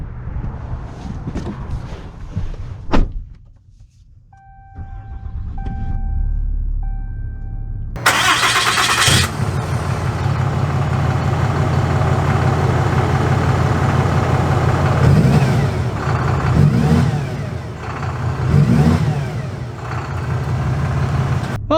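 A 2022 Ram 3500 single cab pickup with a Cummins diesel cranks briefly, then fires up loudly at close range and settles into a heavy, steady rumble with a few rising revs.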